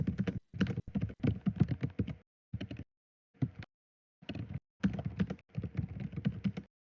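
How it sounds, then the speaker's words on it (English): Rapid computer keyboard typing, with dense bursts of clacking keystrokes broken by short pauses, close and fairly loud with no voices. "What is that typing?"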